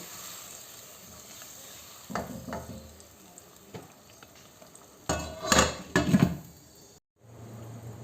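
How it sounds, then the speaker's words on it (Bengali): Chicken curry masala of ginger, onion and garlic paste fries in a pan with a soft, steady sizzle, broken by a few louder scraping and clattering bursts of spatula against metal, then a brief silence before the sizzle resumes. "আমার মশলাটা কষানো হয়ে গেছে"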